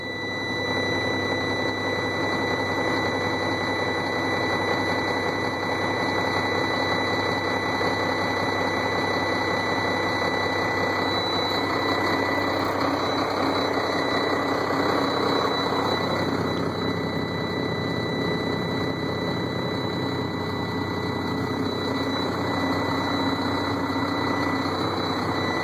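A Sterling roll-off semi truck idles after a cold start, its engine a steady, dense rumble that holds unchanged and fairly loud throughout, with no voices.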